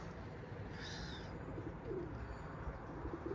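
A pigeon on a rooftop coos softly a few times at a distance, low murmuring calls over a steady background hum, with a faint higher bird chirp early on.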